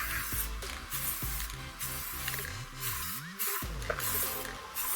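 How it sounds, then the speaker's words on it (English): A spray can lays a light, dry coat of paint on wheel rims in short, repeated hissing bursts, fairly quiet and alone. "I begin again with a light, dry spray"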